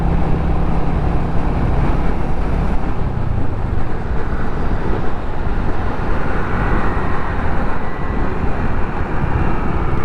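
Heavy road traffic roars as a dense, constant rumble of engines and tyre noise, loud and close and unbroken throughout, with no voices.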